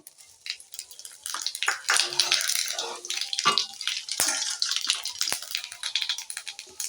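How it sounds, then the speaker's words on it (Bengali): Green chilies and cumin seeds hit hot oil in a pan and set off a loud, close crackling sizzle with sharp pops, rising quickly and staying steady throughout. "তেল হয়ে গেছে লঙ্কা দিয়ে দিচ্ছি প্রথম লঙ্কাগুলো দিলাম জিরে"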